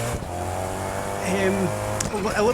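Koenigsegg supercar in Test Drive Unlimited Solar Crown, a steady engine drone with a slight rise in pitch, heard beneath continuous talking.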